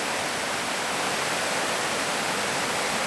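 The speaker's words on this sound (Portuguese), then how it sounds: "Maravilhosa por sua queda d'água extensa" A long waterfall at Cachoeira do Paquetá on Ilhabela pours into a natural pool, making a steady, loud, broadband rush of falling water with no voices over it.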